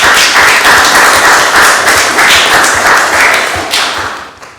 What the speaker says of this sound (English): a big round of applause from all of us.